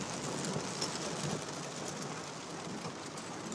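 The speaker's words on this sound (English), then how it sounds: "It's raining. It's definitely raining." Steady rain pours down in Freeport, Texas, a dense, even hiss of drops hitting surfaces close by, continuous and fairly loud with no voices.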